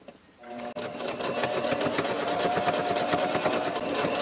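A sewing machine stitches a seam through a thick quilted microwave protector, starting after a brief pause and then running in a steady, rapid close-up chatter with no talking.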